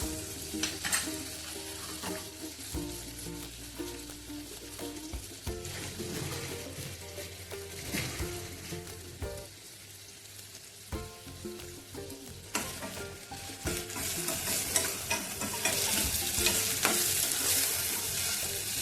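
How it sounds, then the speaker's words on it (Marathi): Chole spice paste sizzles and crackles steadily in a hot pan, with occasional scraping and stirring knocks throughout; the frying grows brighter and louder toward the end. "आपला मसाला छान असा परतलेला आहे."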